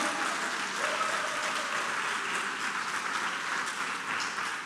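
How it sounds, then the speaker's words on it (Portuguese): A church congregation applauding during a sermon, a dense, steady roar of many hands clapping together that fills the room evenly throughout, with no break. "Pode aplaudir o Senhor bem forte mesmo."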